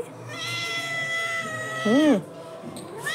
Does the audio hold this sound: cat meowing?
yes